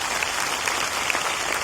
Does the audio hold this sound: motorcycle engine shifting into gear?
no